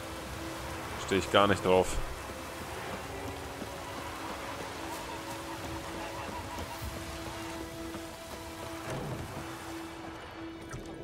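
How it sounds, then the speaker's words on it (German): Steady rain falls in The Witcher 3, a continuous soft hiss of drops under game music and a voice speaking over it. "Ah, fängt's an zu regnen."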